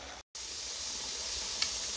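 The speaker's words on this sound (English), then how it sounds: "It's vented a steady stream of steam for 10 minutes." Pressure canner on the stove venting a steady stream of steam while ham and bean soup cans, a continuous loud hiss that cuts out for a moment and then resumes without pause.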